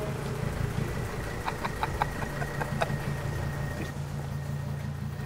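An Eagle SS car's engine idles outside a workshop with a low, steady rumble and a faint run of light ticking knocks partway through, heard alone at moderate distance.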